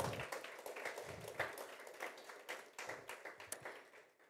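A church congregation applauding, a faint scattered patter of many hands clapping at a distance, fairly soft and even throughout.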